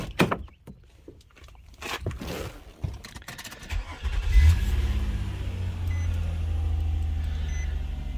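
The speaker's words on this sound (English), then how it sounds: "You're going to want to turn the car on." A car engine cranks after a few scattered clicks and handling noises, catches, and settles into a steady, fairly loud low idle that continues to the end.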